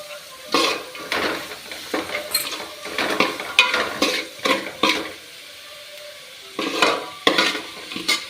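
Onions with salt sautéing in a pan for a chicken parts fry, stirred with a metal spoon in uneven scraping bursts over a soft sizzle, close up and without speech.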